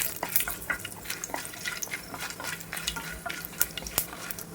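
Whole spices frying dry in a pan: star anise, black pepper, cumin and dried red chillies, with light crackling and frequent small clicks and scrapes as they are stirred, fairly quiet and close.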